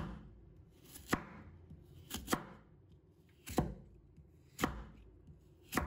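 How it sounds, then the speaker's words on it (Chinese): A knife chops through half a carrot on a cutting board, cutting it into thin slices: five crisp, close knocks spaced about a second apart over quiet room tone. "准备半个胡萝卜，先给它切一片，再给它立起来，切成薄薄的厚片。"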